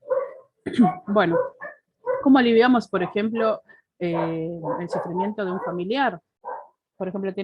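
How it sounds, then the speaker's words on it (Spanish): Barking from the dogs next door comes through intermittently beneath continuous close Spanish speech, the barks partly masked by the talking. "Disculpen los perros porque son del vecino y no los puedo."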